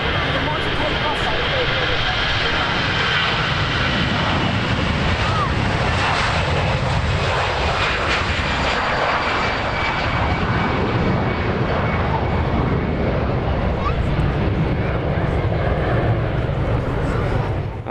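A Jet2 jet airliner departing for Mallorca roars loudly and continuously, its engines producing a broad, steady rumble and hiss that holds throughout.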